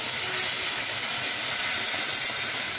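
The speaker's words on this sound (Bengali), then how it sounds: "তাইতে তেল গরম হয়ে গেছে, তার মধ্যে শুকনো লঙ্কা ফোড়ন দিয়ে দিলাম আর তেজপাতা দিয়ে দিলাম।" Dried red chillies and bay leaf dropped into hot oil for tempering, giving a loud, even, continuous hissing sizzle that fills the whole stretch without pause, close and steady, with no voices.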